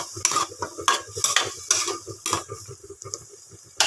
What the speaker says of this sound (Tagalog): Ayan, mekos-mekos lang natin.